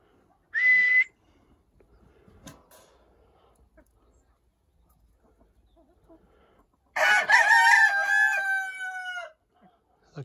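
A rooster crows once loudly near the listener, a long cock-a-doodle-doo, after a short high whistle-like call earlier and some faint clucks and rustling in between.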